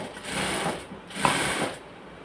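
A sewing machine runs in two short bursts, stitching elastic along the edge of palazzo trousers, the motor whirring close and steady with a brief pause between runs.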